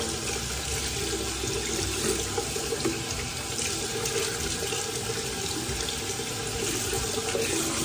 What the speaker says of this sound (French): Pareil, je frotte aussi un peu pour rincer.